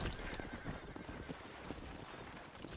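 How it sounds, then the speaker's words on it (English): A horse in the Red Dead video game whinnies amid clip-clopping hooves, the neigh and hoofbeats fairly faint and close together over a short stretch. "I don't want to ride the horse."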